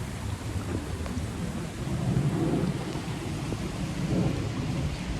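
Steady rain pours outdoors during a hiking adventure at Tai Shui Hang, with a low continuous rumble of thunder rolling beneath the hiss; no voices, just the even wash of the storm.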